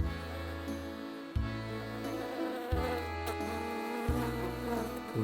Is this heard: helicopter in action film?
no